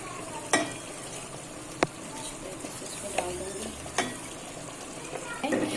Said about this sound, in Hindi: तो अब मैं मेरी जो दाल है इसको डालूंगी